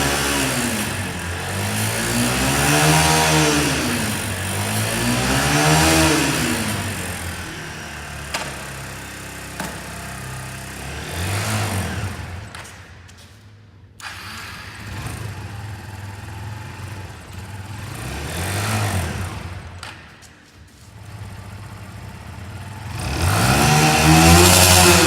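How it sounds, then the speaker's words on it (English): A Kawasaki motorcycle with an electrical fault revs repeatedly, its engine rising and falling in loud swelling sweeps, with a couple of quieter dips where it nearly dies before picking up again. "If you rev the bike up before you try and accelerate, the bike will go."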